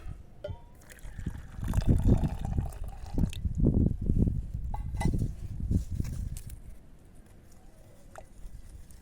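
Hot water is poured into a container to mix copper sulfate for a tree wound paste. The pour sounds like an uneven, splashing trickle that swells and fades over several seconds, close by and with no talk.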